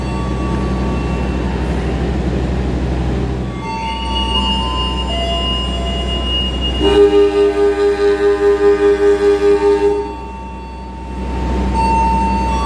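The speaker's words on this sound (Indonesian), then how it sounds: "kereta api Penataran tujuan Surabaya lewat Malang berangkat dari stasiun Blitar" A Penataran passenger train departs Blitar station, with a deep diesel engine rumble, steady mechanical tones and a pulsing rhythmic section midway as it moves off, with no talking.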